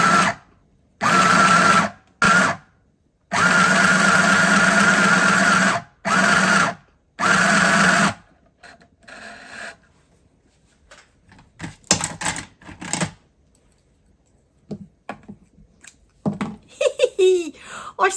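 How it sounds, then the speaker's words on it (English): A home sewing machine stitching a line runs in several loud bursts of a second or two, separated by short pauses, followed by quieter handling noises and scattered talk. "I sewed a line."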